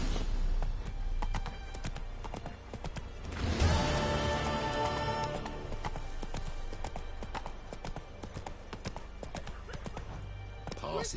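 Horse Roach galloping in The Witcher game, steady clip-clop of hooves running throughout with a neigh partway, under faint game voices and ambience.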